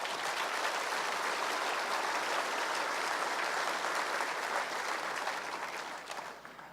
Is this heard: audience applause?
yes